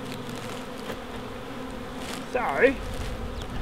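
A wild bee swarm hums with a constant buzzing drone, while someone says a word and bees pass close by in short, louder buzzes.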